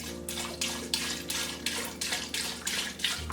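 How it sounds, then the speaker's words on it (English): Chicken broth pours steadily into a pot of tomatoes in a continuous liquid splash, close and fairly loud, with slight pulsing surges as the stream shifts. "so we're going to go ahead and put in the chicken broth now"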